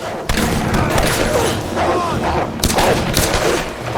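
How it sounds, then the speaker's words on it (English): Gunfire fills a firefight in the 2013 Tomb Raider video game: dense bursts and single shots ring out continuously at close range, loud throughout, with a sharp volley near the start and another later. "Who's shooting at who over there?"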